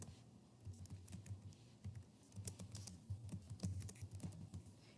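Keys patter on a computer keyboard in quick, uneven bursts of close clicks while a note is typed up. The typing is fairly quiet and there is no speech.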